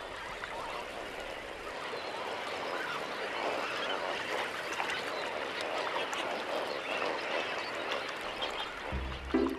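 A large flock of flamingos keeps up a dense, continuous honking and gabbling chorus at moderate distance, steady for several seconds, with no voices over it.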